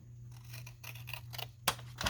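Scissors snip off the edge of recycled junk-mail paper in a quiet craft space: a short run of soft, close cuts followed by two sharper blade closes, with a low steady hum underneath.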